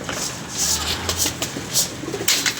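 An old prized pigeon coos softly in a loft, its low murmuring calls repeating in short bursts amid faint background noise and occasional flutters.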